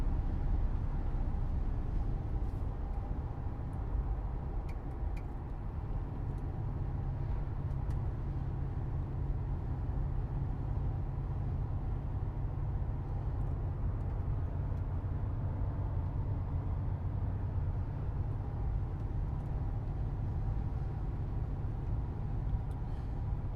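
Steady low rumble of an Audi RS6 twin-turbo V8 heard from inside the car while driving, a continuous even drone with road noise and no distinct shift events standing out, no voices.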